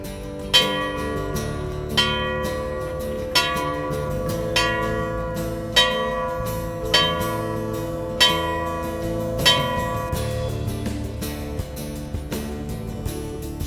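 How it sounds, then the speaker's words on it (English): A ship's bell is struck eight times in paired strokes at a bridge decommissioning ceremony, each loud, ringing clang sustaining under the next in a slow, steady rhythm. "Strike 8 bells!"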